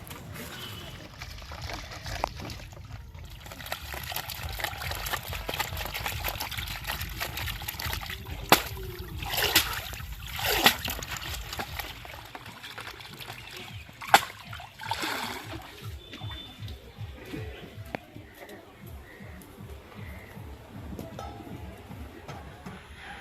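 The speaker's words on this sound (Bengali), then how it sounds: "এখন এই মাছগুলো পুকুর থেকে ভালো করে ধুয়ে নিয়ে আসবো।" Small fish being washed in pond water by hand, with repeated splashes, trickles and sloshing close by, and a few sharper splashes in the middle.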